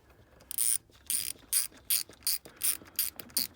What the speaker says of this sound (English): Tighten it up. I'm just doing it by hand right now.